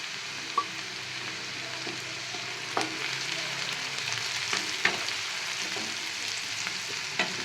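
Chopped onions fry in a pan for street-style pav bhaji, giving a steady close sizzle with occasional sharp clicks and scrapes of stirring. No one speaks.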